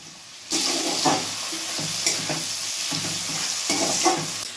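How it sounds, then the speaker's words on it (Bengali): Chopped tomato and onion fry with spices in a pan for a dhaba-style egg tadka, a steady close sizzle broken by several scraping stirs of the spoon. "প্রায় ভাজা ভাজা মতো হয়ে এসেছে টমেটো আর পেঁয়াজ কুচিগুলো"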